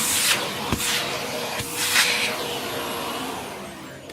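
An AEG UltraCaptic vacuum cleaner runs with strong suction, a steady close whooshing hiss punctuated by a few brief surges and knocks as it is moved, with no speech.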